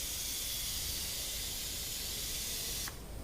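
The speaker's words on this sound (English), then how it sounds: "Now I like to go a nice little gentle spray through" A steady, gentle hiss of water spraying from a hose nozzle onto newly potted rooted cuttings, running continuously and then cutting back near the end.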